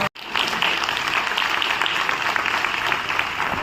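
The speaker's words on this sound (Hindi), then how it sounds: "जोरदार तालियों से" Loud, sustained clapping from a school audience fills the whole stretch after a brief cut, dense and steady with scattered sharper claps standing out.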